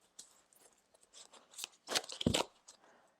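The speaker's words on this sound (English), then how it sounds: "as I'm shuffling these cards" A deck of cards being shuffled up close, quiet papery riffles and snaps in short irregular bursts, with a louder flurry near the end and no talk.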